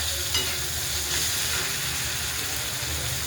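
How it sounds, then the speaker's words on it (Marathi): Vegetables salted and stirred in hot oil, a dense, continuous sizzle with soft scraping of the spoon through the pan, close and fairly loud, no one speaking. "आपल्याला भाज्या कच्च्याच ठेवायचे, नॉर्मल असं परतून घ्यायचे तेलामध्ये."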